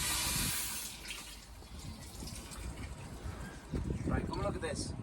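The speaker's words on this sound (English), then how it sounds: "manning the hose" Water running from a hose aboard a Rival 31 sailboat moored in the port of Porto Cristo, Mallorca, a steady close gush that continues under people talking.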